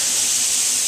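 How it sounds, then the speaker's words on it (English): Loud, continuous sizzling hiss of chicken searing in a hot pan for paella, steady and close. "The best sear that you're gonna get out of your pan is always that first sear"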